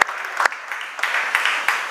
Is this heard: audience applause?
yes